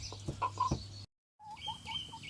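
Broody hen kept in a broody cage, giving short close clucks and low murmuring calls in quick bursts, broken by a brief gap of silence before softer clucking resumes, no talking.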